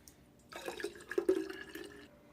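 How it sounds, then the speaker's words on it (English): Harvested yeast slurry poured through a funnel into a homebrew beer starter, a brief liquid gurgle and splash lasting about a second and a half, close and fairly quiet with no talking. "So I will be adding my harvested yeast."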